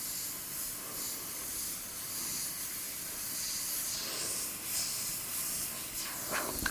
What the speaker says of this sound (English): it will get you a nice spray pattern down and atomise nice, soft top and bottom